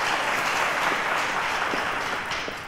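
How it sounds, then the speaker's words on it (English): A studio audience at the Cowbellpedia quiz show claps for the contestants in a full, steady round of applause that stays loud and even before tapering slightly at the end. "Let's encourage them, guys, with a round of applause."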